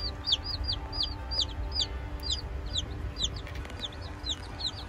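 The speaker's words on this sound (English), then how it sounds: "And then over here, Bantams." Bantam chickens in a farm store pen give a run of short, repeated clucks and chirps, steady and moderately close, with no talking and a constant low hum underneath.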